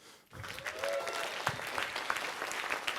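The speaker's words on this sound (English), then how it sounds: "Give a round of applause." Audience applause at an artists' gathering, moderate clapping rising after a brief quiet start and continuing steadily, fairly distant and soft.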